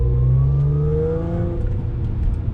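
A supercharged car in second gear produces a raspy exhaust drone from its rear mufflers, loud and close, with the pitch sliding steadily throughout and no voices.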